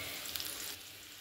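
Onion stalks and potatoes fry in a pan of oil with a steady, close sizzle that eases slightly toward the end, with no voices.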